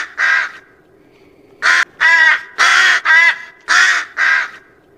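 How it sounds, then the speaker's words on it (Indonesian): A crow caws six times in two bursts, the harsh calls loud and close, with a short pause between the groups and no other sound. "Saat dia mendengar seekor gagak,"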